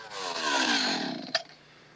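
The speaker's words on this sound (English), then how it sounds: "now we use the tip of the chainsaw to come down close to the line" A chainsaw cuts into a log while shaping timber for a log cabin, giving a loud, close, rasping whine that falls in pitch under load. It then eases off with a brief knock near the end.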